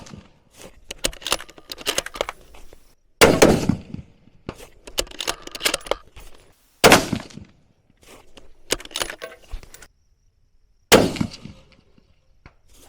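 Three sharp, loud rifle shots from a 300 PRC with a 24-inch barrel firing 225 grain Hornady ELDM factory ammo, spaced several seconds apart and each trailed by a brief echo, with quieter clicks and handling noise in between.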